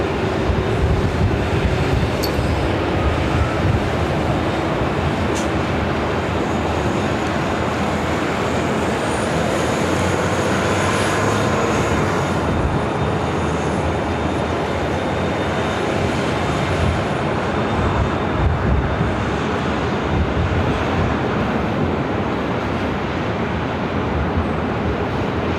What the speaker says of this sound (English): So it should be an immediate takeoff for Korean Air Flight 18 heading back to Seoul